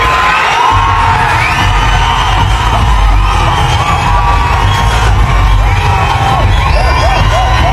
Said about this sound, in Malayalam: ഈ ഓഡിയൻസിൻ്റെ ഈ സൗണ്ടും ആർപ്പുവിളികളെല്ലാം